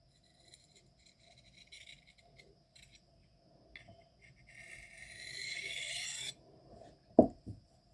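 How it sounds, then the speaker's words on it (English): A knife steel drawn slowly across a 400 grit aluminum oxide India stone: a faint, dry abrasive rasp building over about two seconds, with soft scraping before it and a light knock afterward. "Aluminum oxide, 400 grit India stone. Real slow."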